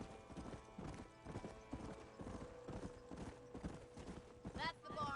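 Horse hooves clip-clop in a steady rhythm across the ground in the Red Dead Redemption video game, close and prominent, with a brief whinny near the end and a voice speaking over the hoofbeats.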